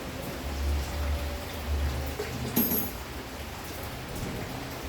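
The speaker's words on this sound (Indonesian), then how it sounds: "Di sini hujan guys, deras," Steady heavy rain hisses and patters nearby, with a brief clink partway through and no voices.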